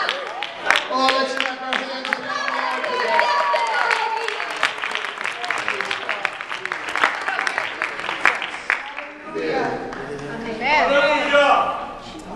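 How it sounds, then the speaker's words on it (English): A church congregation claps hands together in a dense, steady rhythm of many close, loud claps that run continuously and then briefly thin out before rising again, with voices mixed in. "let's clap"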